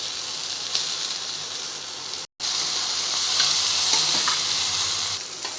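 Okra frying in a pan with a spoon of turmeric and salt, a steady close sizzle with scraping stir sounds, broken by a brief silent gap partway through.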